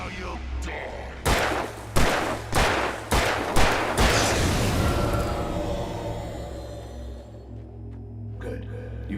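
Gunfire in the video game Alan Wake Remastered, several loud, sharp shots at uneven intervals with echoing tails, followed by a fading ringing decay and a low steady drone.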